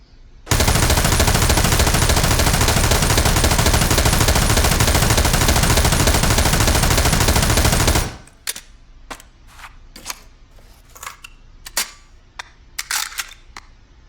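An M249 machine gun fires one loud, unbroken sustained burst for about eight seconds in a video game, then stops and leaves scattered sharp clicks and clinks.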